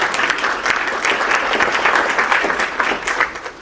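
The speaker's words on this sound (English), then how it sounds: "round of applause for Brad Templeton" An audience claps steadily for speaker Brad Templeton, a dense, continuous round of applause that stays loud throughout and tapers slightly at the end, with no talking over it.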